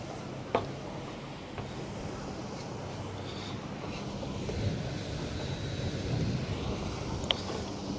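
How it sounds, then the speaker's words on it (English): Wind gusting across the microphone at a waterside fishing spot, a constant low blustery rumble with faint water wash beneath and a couple of small knocks. "A little windier up this way."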